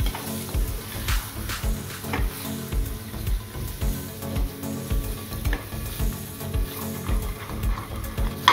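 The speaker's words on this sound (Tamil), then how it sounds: "இப்போ நல்லா கிண்டிகிட்டே இருக்கணும், கிண்டி ட்ரை ஆகிற வரைக்கும் கிண்டிட்டு அப்புறம் இறக்குவோம்." Egg and ridge gourd stir-fried in a pan, with a steady close sizzle and a rhythmic scraping of the spatula stirring through the mixture the whole time.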